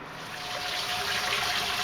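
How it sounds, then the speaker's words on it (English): Water streams steadily out of the overflow pipe of a 50-gallon Rheem electric tank water heater, a continuous close trickling hiss that swells slightly, no talking. "now that we have water running out of our overflow pipe"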